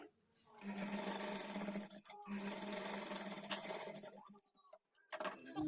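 Sewing machine stitching the lining of a child's lehenga, a loud steady run that stops briefly twice before short bursts near the end.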